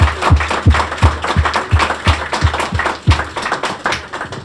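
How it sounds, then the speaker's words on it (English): Audience applause at a cultural district gathering, with sharp distinct claps and thumps in an uneven rhythm, close and fairly loud, as a smallish crowd claps. "I just ask all of you for a big round of applause for all three of them"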